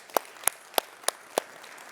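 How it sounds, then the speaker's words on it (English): Five sharp, evenly spaced hand claps ring out, faint and distant, at a slow steady beat after a tech presentation. "Let's take a second and give Martin and team a huge round of applause."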